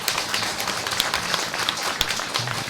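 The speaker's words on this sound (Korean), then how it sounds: "박수 한번 보내주시기 바랍니다." Audience applause at a civic gathering in Gwangmyeong honoring Mayor Baek Jae-hyun, dense close clapping with sharp individual claps standing out from the crowd.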